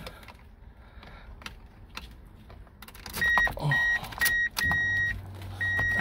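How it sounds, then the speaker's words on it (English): A Mazda Miata NB2 starting up: a quiet lead-in of faint clicks and rustles, then a louder burst of electrical chimes and whirs as the ignition comes on, ending in a steady low engine drone that settles at idle, close by. "let me turn on the car"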